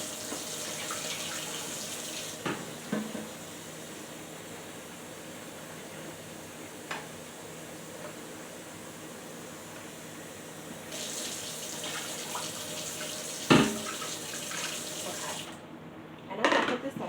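Water runs steadily from a kitchen tap into a pot for cooking rice, a continuous close hiss with the flow shifting partway and a few clanks of the pot, no talk.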